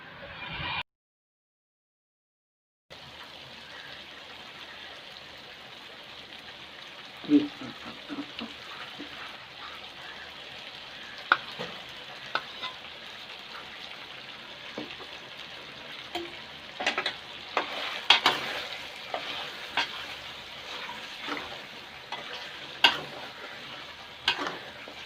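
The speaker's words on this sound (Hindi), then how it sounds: "ये 1 कप इसमें क्रीम डालेंगे।" Beef white karahi simmers in a pan as a cup of cream goes in, a soft, steady bubbling sizzle broken by scattered clicks and taps of a spoon against the pan, following a brief silent gap at the start.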